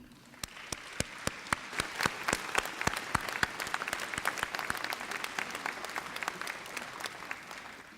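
Applause from an audience at a town mayor's New Year greetings event in Longpont-sur-Orge, a moderate crowd clapping steadily with sharp distinct hand claps, somewhat distant, with no voices over it.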